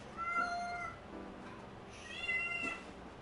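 A house cat meowing indoors, two drawn-out plaintive meows a second or so apart, fairly close and clear over quiet background hiss.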